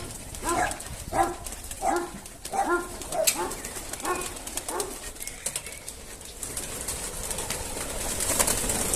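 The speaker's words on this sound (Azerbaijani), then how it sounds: "quşlar bizi görür, hürkür" Pigeons in a farmyard among animals give a run of repeated, rhythmic calls over the first five seconds. The calls then fade into a quieter open-air background with no talking.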